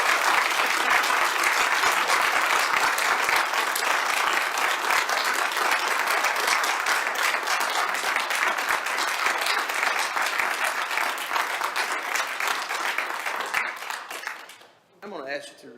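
Sustained applause from the audience at a commission meeting, a loud, dense patter of many hands that runs steadily before tapering off abruptly, with voices briefly heard at the very end.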